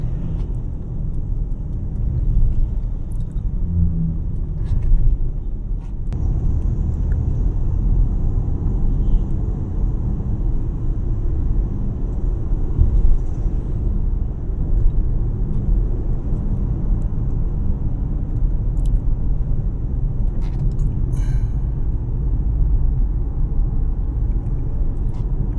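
Road traffic rumbles steadily and loudly as a low, continuous drone, with occasional faint higher whooshes and clicks over the top and no clear talk.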